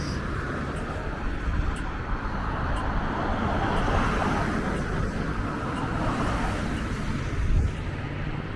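Road traffic on a street in Reykjavik, Iceland, a steady broadband rush of passing cars at moderate distance with a brief louder swell near the end.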